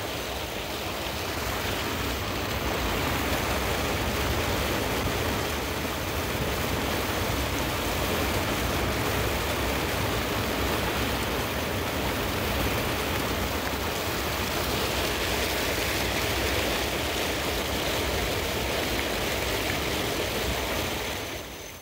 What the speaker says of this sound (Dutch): het koelwatersysteem in bedrijf gesteld, waarbij deze waterval voor het eerst zijn belangrijke functie vervult